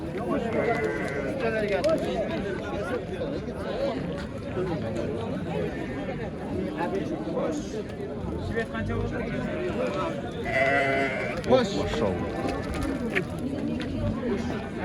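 Sheep bleat intermittently amid a busy crowd of people talking and calling out, a dense, noisy outdoor market scene.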